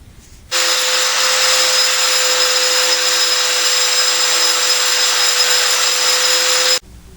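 A power-driven sandpaper roll polishing the spindle of a Ford F-150 or Bronco 4x4 front axle gives a loud, steady whine and grinding hiss, starting abruptly and running about six seconds before stopping sharply.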